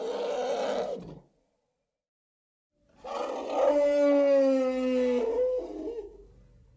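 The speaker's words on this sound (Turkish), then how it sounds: "Bu bir fil." An elephant call, a single loud trumpeting blast with a rising, wavering tone lasting about three seconds, following a shorter burst of animal sound and a pause of silence.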